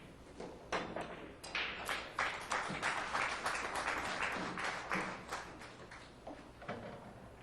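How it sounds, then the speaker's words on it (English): Scattered applause rippling through a conference center hall during a 9-ball pool tournament, many irregular claps rising and fading over several seconds at moderate distance, no talking. "Here's some applause."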